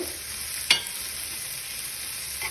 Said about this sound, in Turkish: Karıştıralım tabamızı.